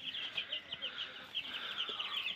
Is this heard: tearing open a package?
no